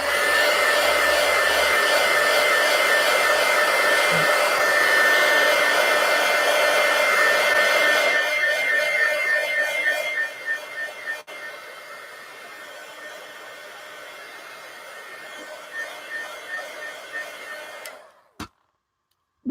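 A hair dryer blows on painted artwork with a loud, steady whir. It fades and changes tone partway through, then sputters briefly and cuts off near the end.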